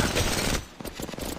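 Bursts of gunfire from Apex Legends Mobile gameplay on a Xiaomi Redmi 10, a dense volley that drops into rapid separate shots, close and loud with no talking.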